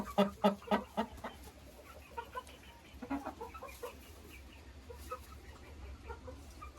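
A hen being placed in a nest clucks in short, loud bursts at first, then softer, scattered clucks follow over a quiet background.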